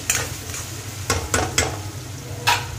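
A green chilli fries in a pan for paneer tikka masala, a low steady sizzle with a low hum beneath and several crisp spatula scrapes and taps, no talking.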